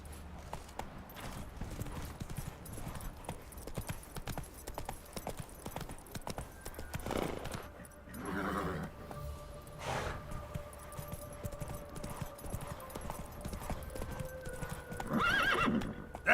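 Hooves of Roach, the horse in The Witcher 3, clatter steadily in a gallop while the horse neighs loudly a few times, backed by game ambience and music.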